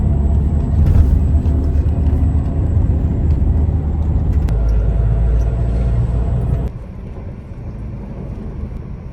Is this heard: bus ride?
yes